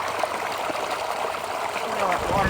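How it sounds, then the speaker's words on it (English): Rainwater rushes through a freshly unclogged culvert beside a dirt road during a rainstorm, a steady broadband gurgling flow that swells slightly louder toward the end, with no talk over it. "Look at all that water now."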